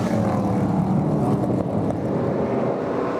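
ARCA Menards Series stock cars race side by side at Elko Speedway, their engines a loud, continuous roar with wind buffeting the microphone throughout.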